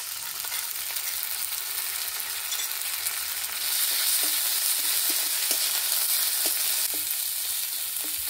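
Ginger-garlic paste frying with browned onions in oil, a continuous hissing sizzle close by that swells a little louder midway, with occasional soft scrapes of stirring.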